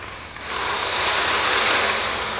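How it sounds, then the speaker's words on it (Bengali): Water poured into a pan of spiced tangra fish curry, a steady rushing hiss that swells after a quiet start and carries on loudly to the end. "এখন আমি জল দিয়ে ঢাকা লাগিয়ে দেবো।"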